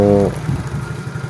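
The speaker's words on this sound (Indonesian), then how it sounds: "Jadi si motor ini berbed di RPM bawah ini." Low, uneven engine of a Yamaha Mio motorcycle sputtering at low RPM, a brief steady hum at the start and then a rough, irregular chugging held close and fairly loud.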